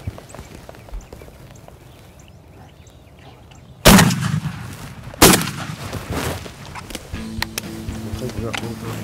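A shotgun loaded with heavy Magnum shot fires at a wild turkey outdoors, first one loud close blast and then a second about a second and a half later, after a quiet stretch and followed by excited talk.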